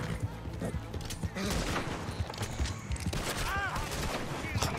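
A dense burst of rapid gunfire comes from the player's gun in Red Dead Redemption 2, with shots piling up in quick succession over a busy game soundscape.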